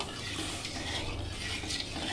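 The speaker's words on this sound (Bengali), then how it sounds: "হলুদটা ভালো করে একটু নেড়ে দেবো" Turmeric being stirred into salted water in a wok for boiling fish, a steady scraping swirl with faint metallic clinks that runs without pause, close and fairly quiet.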